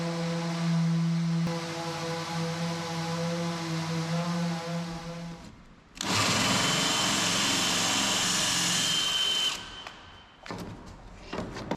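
A power drill bores holes through a boat deck, first a whining tonal motor drone, then a harsh loud grinding burst as the bit cuts in, ending in brief clatters.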